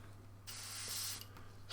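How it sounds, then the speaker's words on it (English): Airbrush spraying paint, a soft, steady hiss that starts abruptly and runs for about a second, fades, then gives a brief louder burst at the end over a low, constant hum. "So, I'm actually going to now spray these."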